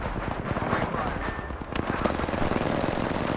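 Rapid automatic gunfire from Apex Legends fills the whole stretch, dense overlapping shots at close range, loud and continuous with in-game voice lines mixed over it.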